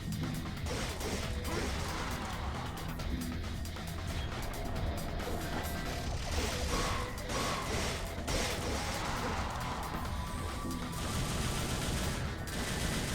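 Rapid gunfire with crashing, clattering hits from the Devil May Cry video game, dense and loud throughout, with no talking over it.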